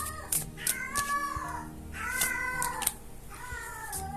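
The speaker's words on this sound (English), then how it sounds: "There's some cats here, you know." Several cats meow close by in a short run of drawn-out, rising and falling cries, three or four calls overlapping over faint background noise.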